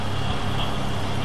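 Off-road four-wheel-drive vehicle in a video game, stuck in mud, giving a steady low engine drone that stays loud and constant throughout without a break.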